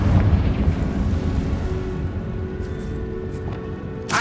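A Confringo blast spell from the Hogwarts Legacy game goes off as a loud, rumbling explosion with a deep boom that fades into a crackling tail.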